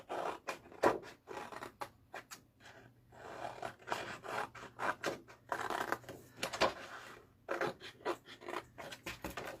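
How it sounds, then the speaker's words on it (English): Scissors cut roughly around a printed Christmas paper piece, making close, crisp snipping and rustling strokes in irregular bursts with brief pauses between cuts. "And I'm just going to cut round that."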